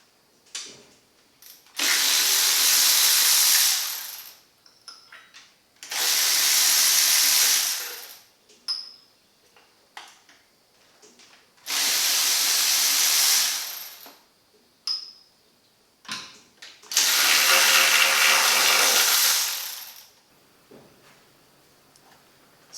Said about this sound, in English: we're going to be doing an automotive clear coat on the valve cover as well as the lifter cover